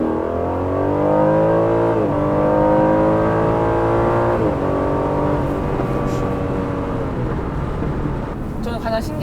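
Aston Martin DB11 V8 grand tourer revving through low and mid revs, its exhaust crackling and burbling in a rapid rhythm, loud and close with rising and falling engine tones throughout, while people talk over it.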